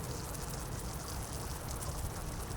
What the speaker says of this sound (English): I still take and spray down all the flowers on my way